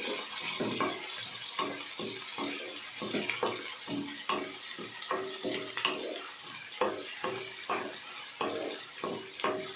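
Dried red chillies frying and stirred in a pan, giving a steady sizzle broken by repeated scraping stir strokes against the metal, close and fairly loud with no voices.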